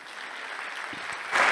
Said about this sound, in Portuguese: Salve de palmas para o Matheus.